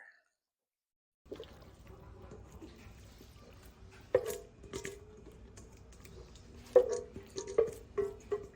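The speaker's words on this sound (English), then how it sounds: "Now I'll just gently pour this down in there." Green bean casserole mixture poured into a baking dish for Thanksgiving, a soft wet sloshing and patter that swells into louder squishy plops near the end, close and without talk.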